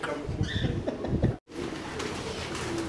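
Soft racing pigeon coos and fluttering in a loft and aviary mingle with a busy, noisy background, with a brief silent gap partway through.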